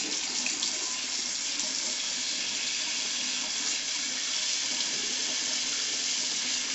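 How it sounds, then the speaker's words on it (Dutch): Warm water runs steadily from a tap into a sink at home, a continuous close splashing rush that stays even throughout with no voices. "ik ga nu eerst eens eventjes warm water maken"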